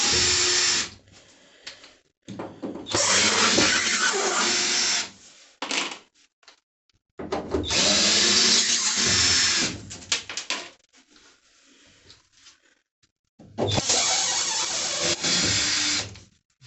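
Three loud bursts of a power drill whirring against metal while removing screws from Peugeot Boxer 2019 van panels, each lasting a couple of seconds, separated by quieter pauses with faint rattling.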